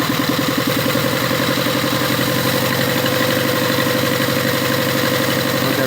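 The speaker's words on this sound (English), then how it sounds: "You can hear the RPMs kicking up. You can hear the exhaust pushing out more." A loud, close engine runs steadily with a throbbing exhaust note, holding a rough, even idle that edges slightly higher in pace.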